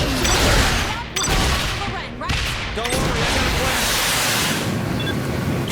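A thrown explosive goes off in the video game Saints Row The Third with loud blasts and rumbling bursts. Dense game noise carries on throughout, and a voice may be heard faintly.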